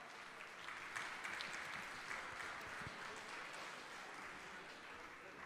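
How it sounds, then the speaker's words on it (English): Steady crowd applause at a FIBA 3x3 basketball event in Sydney, Australia, a dense wash of clapping heard from a distance that carries on evenly without pause. "a round of applause for our winners"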